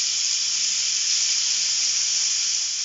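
Kebabs sizzle on a hot oiled grill, giving a loud, steady hiss that holds evenly and close for the whole stretch, with no voices over it.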